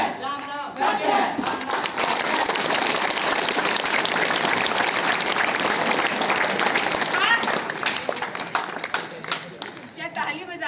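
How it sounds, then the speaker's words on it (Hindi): Theater audience clapping and cheering loudly for several seconds, a dense crowd roar that thins toward the end. "क्या ताली बजाते हैं आप? और बजाइए ना, मैं भी साथ में बजाऊंगी।"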